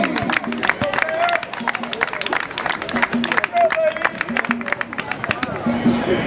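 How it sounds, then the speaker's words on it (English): A crowd claps and cheers steadily in a large echoing space, with babble and shouts mixed throughout the applause. "Please give a nice round of applause for Shayna Sangauli."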